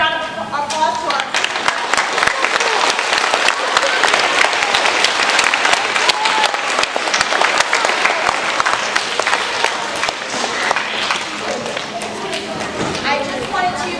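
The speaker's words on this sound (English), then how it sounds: "Please give a round of applause to our" Audience applause for the cast of a children's theatre production of The Snow Queen, a dense, steady wash of many hands clapping that holds loud throughout and thins slightly near the end, with some voices mixed in.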